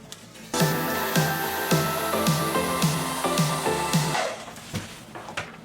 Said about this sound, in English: So typically what people use is a hair dryer